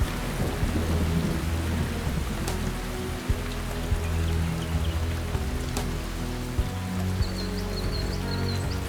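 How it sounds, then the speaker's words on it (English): Steady heavy rain falls across Australian wilderness, with several low thunder rumbles and cracks rolling through and a faint bird call near the end. "When the rains come,"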